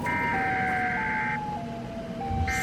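A siren-head monster's wailing siren rises and falls in long, steady tones over a low rumbling background, sounding fairly distant.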